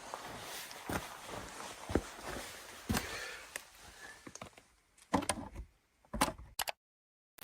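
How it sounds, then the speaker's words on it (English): Distant knocks and dull thuds at night in the desert, scattered irregularly with quiet gaps between them, some sharper hits near the end before the sound drops to silence. "Distant knocks and thuds are heard."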